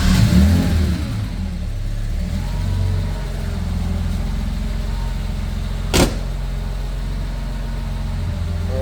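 Car engine with CIS fuel injection cranking and starting, then idling steadily close by; a brief burst at the start settles into a continuous low rumble, with one short sharp click partway through.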